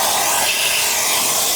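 An EGO 56V cordless 9-gallon wet/dry vacuum runs steadily on its medium setting, giving a continuous, fairly loud airy whoosh and hiss with no voices over it.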